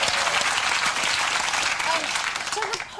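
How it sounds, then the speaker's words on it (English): A television studio audience at a late-night comedy show bursts into loud, sustained applause that tapers slightly near the end. "Round of applause for that, I think."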